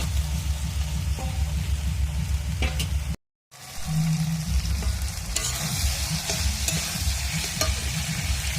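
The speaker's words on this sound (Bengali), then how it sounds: "এবার আমি আলু ফুলকপিটা ভাজাটা দিয়ে দেবো।" Fried potato and cauliflower pieces are stirred into sizzling masala in a pan, giving a continuous close frying crackle with scraping strokes, cut by a short silent gap near the middle before the sizzle resumes.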